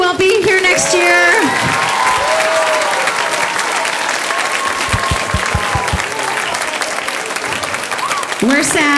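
An elementary school audience at a spring musical of The Lion King Kids gives sustained applause, dense clapping with some cheering and a voice speaking over it through most of the stretch.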